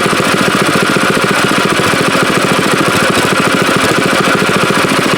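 Small mower engine idling steadily while spinning a leaf and grass vacuum impeller, a loud continuous mechanical drone with a fast regular pulse, close up and alone with no voices.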